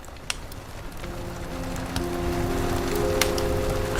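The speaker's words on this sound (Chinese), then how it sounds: "除了雨声，听不到任何声响。" Rain falls steadily through a jungle at night, a soft continuous patter with occasional louder drops and faint insect-like tonal hums in the background, no voices.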